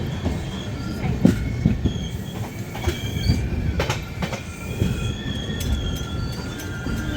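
Mahakaushal Express 12189 rolling into the small two-platform Atara railway station, with a steady rumble of wheels on rails, rhythmic clatter, and scattered high metallic squeals from the wheels, heard close and continuous without any talking.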